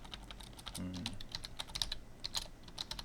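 Rapid keystrokes click on a computer keyboard, close and distinct, in uneven bursts of taps over a faint room hum.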